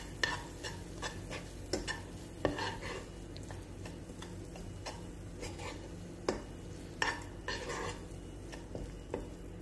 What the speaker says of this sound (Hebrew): אני מערבבת